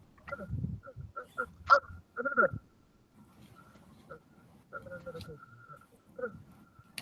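A dog makes short vocal sounds close by, with brief whines and yips in uneven bursts, while a person talks over and between them.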